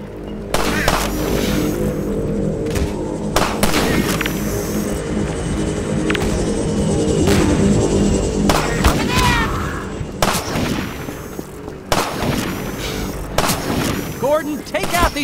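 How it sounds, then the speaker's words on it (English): Grenade explosions and gunfire ring out in the video game Half-Life 2, a dense run of loud booms and sharp shots in repeated bursts over a busy battle background. "Gordon, lob a couple grenades! That'll clear them out!"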